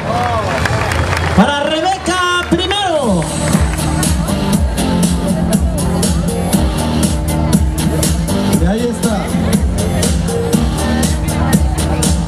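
Applause and cheering from a crowd for the newly crowned queen at the Huixtla fair in 2012, loud sustained clapping under a booming announcer's voice and music.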